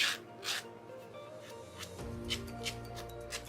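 A nail file rasps across a fingernail in a few short, quiet strokes, soft scratchy bursts close to the microphone, with a low hum entering partway through.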